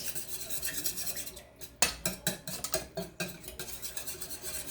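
Close, rapid whisking of thick microwave gingerbread batter with molasses in a bowl, steady scraping strokes in an irregular rhythm with no voices.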